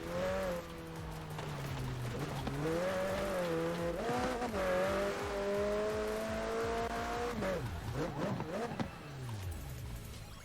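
A McLaren 570S in the racing game Forza Horizon 4 drives with a loud, continuous engine note that rises and falls as it revs and shifts, with tire squeal near the end.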